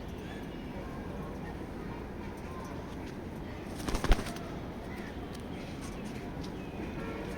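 Racing pigeons coo softly inside a pigeon loft, a low murmur against steady background noise, with one brief sharp knock or flutter near the middle.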